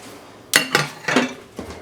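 Spoon scrapes and clinks against a baking dish while Jiffy cornbread mix, melted butter and casserole ingredients are stirred together, a few close, distinct strokes in quick succession.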